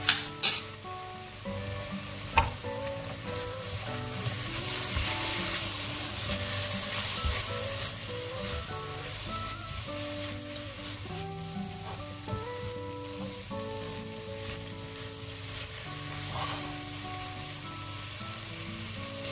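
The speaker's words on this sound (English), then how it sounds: "Now it's time to give it a quick mix." Fresh soybeans, green peas and sweet corn frying in a pan while being stirred, a continuous close sizzle with occasional scraping clicks of a utensil and soft music underneath.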